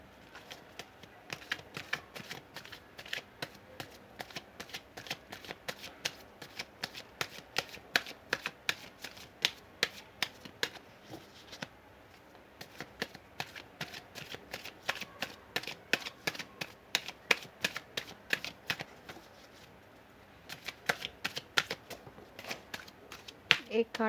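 Playing cards are shuffled by hand at close range in rapid bursts of crisp riffling flutters, with short pauses between runs and a faint voice now and then.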